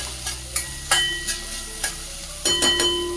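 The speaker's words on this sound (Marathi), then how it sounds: "हे पहा कांदा थोडासा परतून झाला आहे" Onion sautés in a pan for a gram-greens curry, a soft steady sizzle punctuated by several light stirring scrapes and a few clinks near the end, close and fairly quiet.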